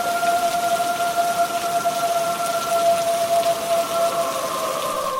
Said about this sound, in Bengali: বাইরে বৃষ্টি এক নাগাড়ে হয়ে চলেছে